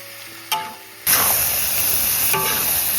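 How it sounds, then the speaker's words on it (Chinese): Bamboo shoots and meat being stir-fried in a wok, a steady loud sizzle and hiss that starts abruptly with a brief spatula scrape, continuing close and unbroken. "慢慢翻炒入味。"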